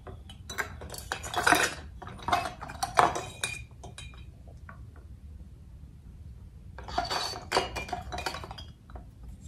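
Vintage glass thrift-store decor items clink and knock together while being handled, in clusters of bright chinks separated by a quiet pause, close and clear with no talking.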